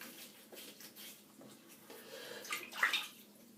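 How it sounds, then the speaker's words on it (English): Water splashes and drips as a man wets his face at a sink before shaving, soft patters building to a louder splash near the end. "Let me just wet my face a little bit"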